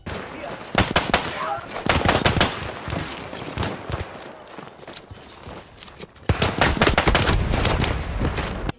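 Colibri gun fires in a Persona video game: loud bursts of rapid automatic shots with short gaps between volleys, close and alone.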